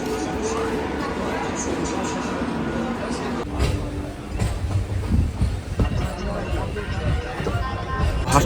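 A Hasnabad local train runs from Dum Dum with a steady rumble and rhythmic clatter of wheels on rails, heard from inside a carriage under constant passenger chatter.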